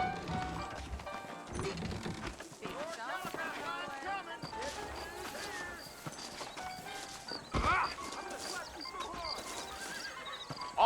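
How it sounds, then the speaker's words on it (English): Horses in the Red Dead Redemption video game neigh and whinny while their hooves clip-clop, and people talk over them with music in the background. "I got the horses saddled up and ready out front."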